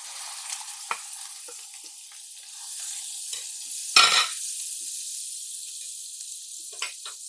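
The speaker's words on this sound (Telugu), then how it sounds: "ఇప్పుడు బాగా ఫ్రై చేయాలండి." Ground coriander chutney fries in a pan with a steady close sizzle, punctuated by occasional stirring scrapes and one brief louder burst of hissing.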